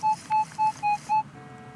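A metal detector emits five evenly spaced short high beeps in a steady rhythm, a clear tonal signal over a quiet outdoor background, then falls back to a faint hum.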